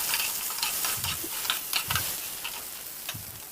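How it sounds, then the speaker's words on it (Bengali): Pointed gourd (potol) frying in oil in a wok, a steady bright sizzle with occasional low knocks of stirring, no voices. "দিয়ে ভালো করে মা ভেজে নিচ্ছে পটলটাকে।"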